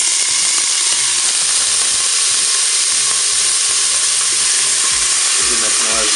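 Onions sizzle and fry steadily in hot oil inside a Cookeo multicooker, a loud continuous crackling hiss with no talking.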